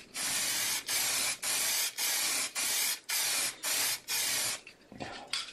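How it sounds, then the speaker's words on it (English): Spray glue hisses out of an aerosol can in eight even, close bursts with short pauses between them, followed by faint handling noises. "I'll spray paint a little bit of this glue already here."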